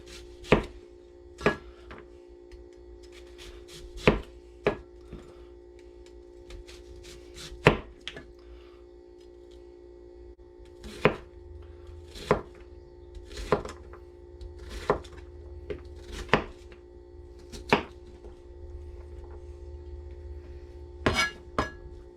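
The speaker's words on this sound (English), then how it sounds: "We'll slice our onion up." An onion sliced with a knife on a board, crisp separate knife strikes at an uneven, unhurried pace over about twenty seconds, close and clear with a faint hum behind and no talk.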